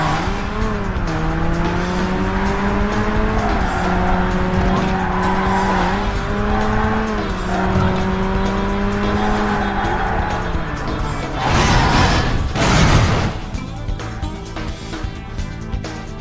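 Race cars in the PS2 game Burnout brake hard with long tire squeal over a loud, steady engine roar, rising into a harsh skidding burst near the end.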